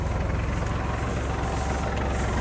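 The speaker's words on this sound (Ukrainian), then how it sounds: "Трактор сам іде на швидкості." A Kubota tractor pulling a Lemken implement crawls across a field garden at about 2 km/h, with a loud, continuous diesel drone and a rhythmic low throb throughout.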